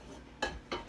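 A pan picked up for scrambled eggs gives two sharp metallic clanks close by, spaced apart over a quiet kitchen.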